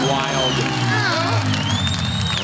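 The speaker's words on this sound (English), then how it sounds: "Oh, the crowd goes" Comedy-show crowd at a Kill Tony taping in Las Vegas, cheering and whooping loudly throughout with shouts and whistles, while a voice speaks over the roar.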